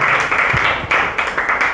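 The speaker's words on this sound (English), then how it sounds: "A round of applause for her" An indoor audience at a book event claps for the author, a dense, steady burst of applause filling the short stretch.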